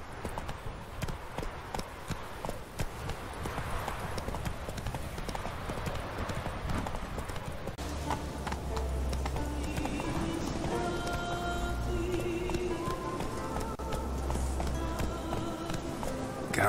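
Hooves clip-clop in a fast, steady galloping rhythm as a horse runs in The Witcher 3: Wild Hunt, continuous and fairly close with background game sounds.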